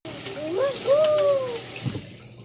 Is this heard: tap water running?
yes